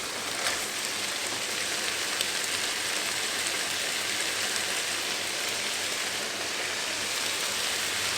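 Pork and vegetables fry in a pan with a dense, even, hiss-like sizzle that keeps up steadily throughout, close by and without talk.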